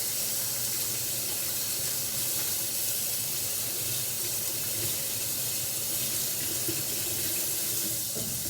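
Hands rinsed under a running kitchen tap during cooking, a steady hissing stream of water splashing into the sink, continuous and moderately close with no voices.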